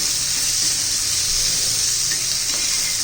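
Coriander and green chillies sautéing in a pan for Kolhapuri mirchi thecha, a loud, even hiss of frying that runs without a break.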